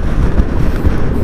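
Heavy gusts of wind pound the microphone with a dense, close low-frequency roar and buffeting thumps on a hillside road near a cliff in San Nicolas, Pangasinan.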